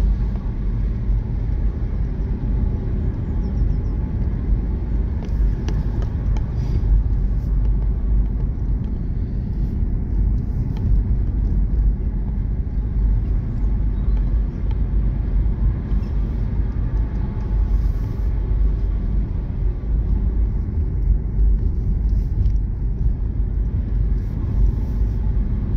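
A car drives through Sandringham Forest, with a steady, loud interior road rumble and engine drone that holds unbroken throughout, and no one speaking.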